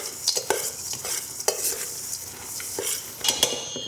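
Liquid ingredients with vanilla extract being stirred for protein energy bars, quick rhythmic clinks and scrapes of a utensil against a bowl, close and busy, no voices.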